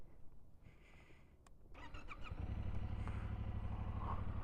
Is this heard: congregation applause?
no